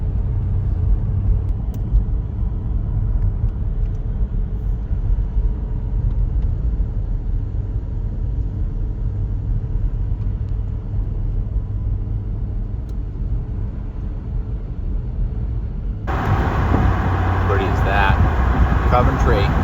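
A car drives along a snowy road in Vermont's Northeast Kingdom, its low steady engine and tyre rumble filling the cabin; the road noise brightens and grows louder near the end.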